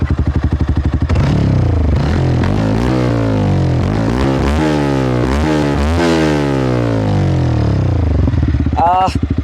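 Loud and close, a Yamaha R15M motorcycle fitted with an aftermarket exhaust revs several times, its engine note climbing and falling between idle stretches.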